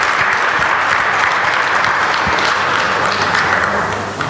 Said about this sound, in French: May applaud the Lord for his life.